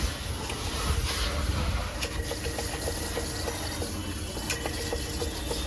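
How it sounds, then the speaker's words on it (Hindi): Water gushes steadily from an electric pump motor outdoors, its pressure pulsing as the motor takes load, a continuous loud rush with faint bird calls in the background. "अरे मोटर जने लोड ले है ना, पानी प्रेशर तेज हो जेतै ना, तो चले है"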